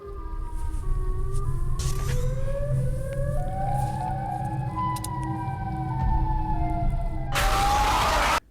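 A loud Siren Head siren wails in a continuous rising, wavering tone, sustained throughout and ending in a harsh noisy blast.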